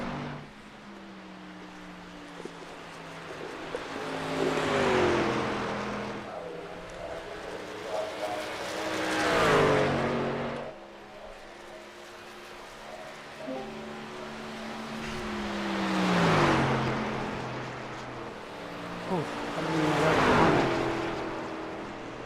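A race truck in a BNR Truck Series event runs its first lap, its engine note rising and falling in two passes as it sweeps by, under an announcer's commentary.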